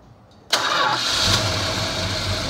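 A 1969 Dodge Daytona with its original numbers-matching 440 V8 cranks and fires at about half a second, then settles into a loud, steady, rumbling idle close to the microphone, with no one talking.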